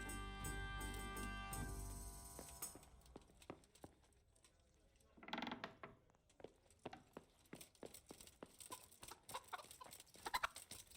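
Chickens cluck and peck in the medieval role-playing game Kingdom Come: Deliverance. Scattered clucks and clip-clop sounds rise over a low, fading drone, with a brief rustling burst midway.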